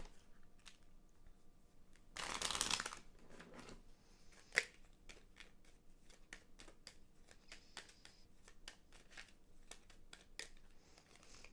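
Chakra oracle cards are pulled and handled close by, with one brief shuffling burst, a sharp snap, then faint scattered clicks and rustles of the cards in a quiet room.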